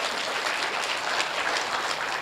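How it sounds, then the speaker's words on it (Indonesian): A dense, steady wash of audience applause fills a motivational health talk hall, continuous broadband clapping at even loudness throughout with no voices on top. "Tepuk tangan untuk kita."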